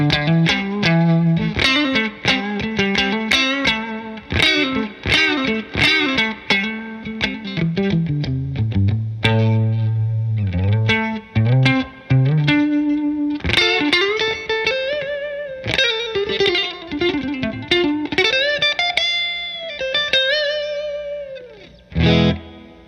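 A Fender American Standard Stratocaster electric guitar plays a long melodic passage of single notes and bends through distortion and chorus effects, loud and alone with short pauses between phrases.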